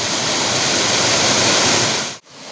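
Loud, continuous rush of Choriyankunnu's monsoon-season waterfall, water plunging down from a canal-like channel, steady and close with no talking, broken by a sharp brief dropout just before the end.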